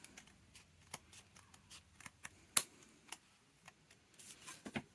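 Scissors snipping through a book page for a junk journal, several quiet, close, irregular clicks and crisp cuts with soft paper rustling between them.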